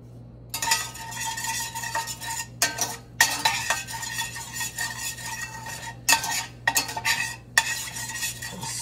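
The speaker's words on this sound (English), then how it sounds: "we're gonna add a little bit of olive oil. In we go, and mix that around with the pork fat." A utensil scrapes and stirs olive oil into rendered pork fat in a pan, making repeated, close clinking strokes with brief pauses between them and only a faint sizzle.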